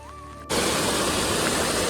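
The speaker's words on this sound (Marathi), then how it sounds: "हे आपली गावची नदी आहे" Steady rushing water of a village river in Konkan starts abruptly and continues as a loud, broad, even roar, close by, with no voices.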